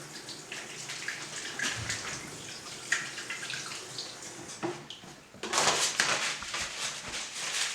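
Water runs from a tap as hands are washed in a kitchen while preparing a vegetable slaw, a steady hiss that swells louder partway through and continues alone with no talking.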